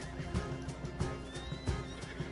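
A horse in the video game Red Dead Online neighs and whinnies with a rising squeal, over rhythmic hoof clip-clops and a busy game soundscape, fairly close and moderately loud.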